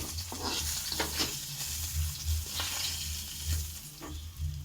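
Angti fish frying in hot oil in a wok, a steady crackling sizzle with occasional stirring scrapes, close and continuous throughout with no talk.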